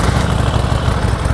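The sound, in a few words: Harley Davidson Sportster 1200 motorcycle engine idling, factory exhaust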